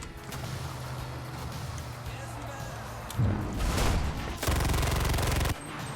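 Gunfire from a gun in a video game, a couple of short loud bursts of rapid shots breaking through a steady hum of game background, with talking heard in the clip.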